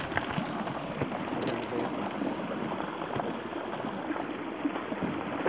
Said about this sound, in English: look at the current coming out that side